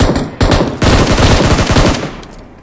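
Loud bursts of rapid automatic gunfire in the video game PUBG Mobile, close and sharp, with short gaps between volleys that trail off at the end.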